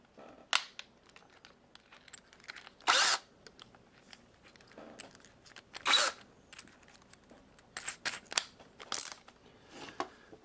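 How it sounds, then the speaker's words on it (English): Power drill with a 1/8 inch bit boring a button hole into a PS4 controller's plastic shell, several short bursts of whirring with pauses between, close and fairly quiet, with small handling clicks. "So we'll take our drill,"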